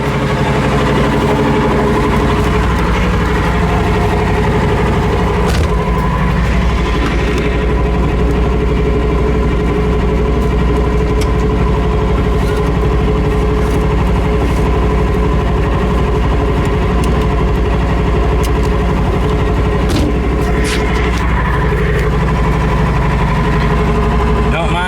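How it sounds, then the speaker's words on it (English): A micro van being driven on a road test after fresh differential fluid and new brakes, its engine droning steadily and loudly up close with constant vibration and rumble throughout. "I'm just gonna cruise around, let that fluid get in the differential, let that brake in a little bit, and go see what this old girl can do."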